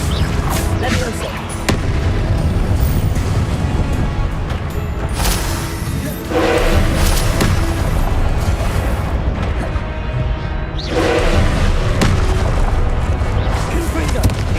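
Repeated fiery Confringo blasts and spell impacts from Hogwarts Legacy combat, loud booming bursts layered densely over continuous game music and effects throughout.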